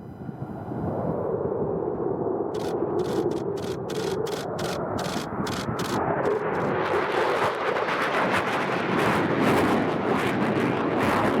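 A V-22 Osprey tiltrotor aircraft passes through the Mach Loop in Wales as a loud, continuous rumbling roar that swells and sweeps across the whole clip, with bursts of wind buffeting.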